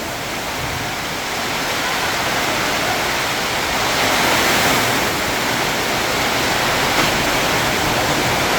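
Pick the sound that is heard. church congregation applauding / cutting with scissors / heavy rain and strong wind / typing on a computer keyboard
heavy rain and strong wind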